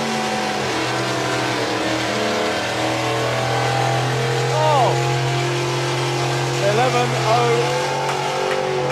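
A drag racing car accelerates hard down the strip at a vintage drag racing event, its engine note rising in steady sweeps, with a commentator's voice and a brief exclamation over the roar.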